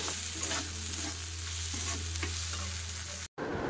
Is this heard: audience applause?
no